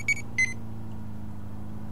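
Two short electronic beeps from the GTA Policing Tools script in the video game GTA, sounding in quick succession near the start, then only a low steady engine-like hum for the rest.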